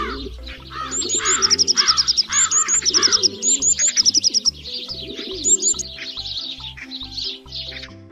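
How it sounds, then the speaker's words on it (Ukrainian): Birds chirp and trill brightly in quick repeated phrases, with cooing doves and a soft low background; several birds call over each other nearby. "Як же весело щебечуть пташки."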